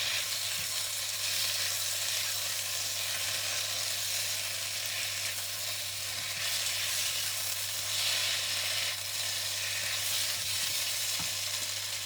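Char kway teow noodles with black pepper stir-fry in a hot pan, a loud continuous sizzle running throughout with a steady low hum underneath and occasional stirring scrapes.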